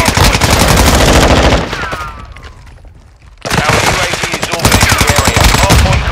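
Automatic and rapid gunfire in Call of Duty: Modern Warfare II during a Hardpoint match on the Mercado Las Almas map, loud dense bursts that pause briefly midway and then resume, with voices calling out among the shots.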